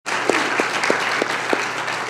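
A church congregation claps in a steady sustained burst of applause filling the room, with faint periodic low thumps beneath and no clear talk.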